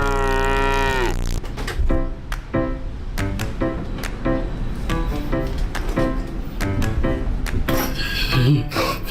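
A cow gives one loud, close, drawn-out moo right at the start, then it gives way to dense, busy sound.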